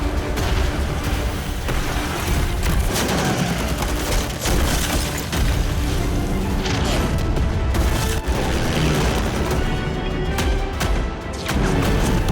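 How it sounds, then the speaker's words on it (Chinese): Artillery bombardment over wartime Shanghai, a dense continuous barrage of booms and crashing blasts, loud and overlapping throughout with no pauses. "眼下的城市是炮声隆隆"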